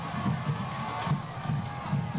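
A crowd at a high school football game cheers and shouts in a steady, dense roar, fairly loud and continuous throughout.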